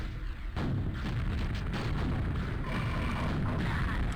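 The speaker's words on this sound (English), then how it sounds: "Let's shoot a couple rockets again." Rockets fire in a video game, sending a dense, continuous roar of booming blasts and explosions that stays loud and unbroken throughout, with no voices over it.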